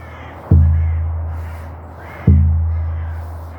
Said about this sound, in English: Crows have come to join in.